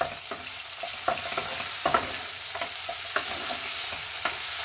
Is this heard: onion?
yes